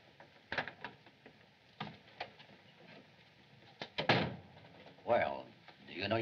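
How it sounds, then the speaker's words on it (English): Clicks and clunks of a 1930s door being unlatched and opened, several short mechanical knocks and rattles, then a louder scrape near the end with voices nearby. "Open the door."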